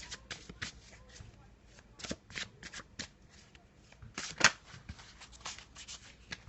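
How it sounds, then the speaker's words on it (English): Black and white Faulkner Tarot cards are shuffled by hand close up, a run of quick papery riffles and slaps with brief pauses between bursts. "Let's just have a little shuffle and have a little look and see what we've got going on."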